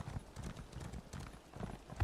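Horse hooves clip-clopping in the video game Elder Scrolls Online, a quick irregular run of soft thudding steps at close range, with faint voice in the background.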